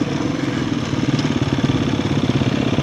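Motorcycle engines climb a hill, giving a close, steady, pulsing mid-pitched engine drone with a rapid throbbing rhythm and no talk over it.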